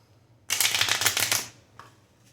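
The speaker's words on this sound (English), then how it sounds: "So you just cut the deck, do a shuffle." A Svengali deck of cards is riffle shuffled in one crisp burst of rapid fluttering clicks lasting about a second, then a brief soft tap as the cards settle.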